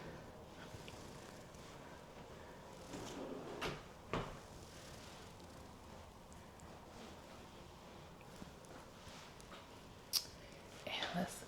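Closet drawers in a custom secondary closet of a luxury Toll Brothers home are opened and closed, giving a few soft thumps and slides spread through an otherwise quiet room, with faint breathy whispering in the background.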